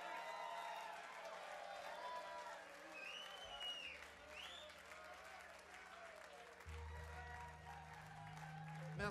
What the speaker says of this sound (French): Vous remercier pour cet applaudissement